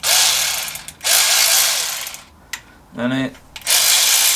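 A Sealey CP1202 12V cordless 3/8in ratchet runs in loud bursts, first one way and then the other, with short pauses and a brief lower gear whine between runs, and a voice speaks briefly.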